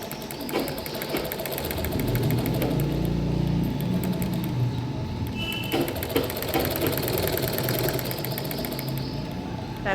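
A sewing machine stitches the folded armhole edge of a child's silk pattu lehenga, running with a steady, fast mechanical whir and needle clatter close by, with a brief pause partway through.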